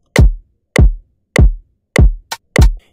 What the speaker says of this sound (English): So it's a 4/4 kick. So if I turn on the metronome, you're gonna hear.